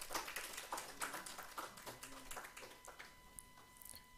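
Sparse, uneven clapping from a small audience at a technology conference session, individual claps distinct and fairly soft in a quiet room.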